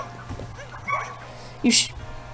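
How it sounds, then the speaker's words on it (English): A dog gives a short bark and a whimpering yelp at a distance, brief and faint, over a background of game music and ambient noise while someone talks. "That was my dog."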